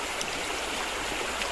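A clear river stream flows steadily beneath a bank near old temple ruins, a constant close rushing wash of water with no voices.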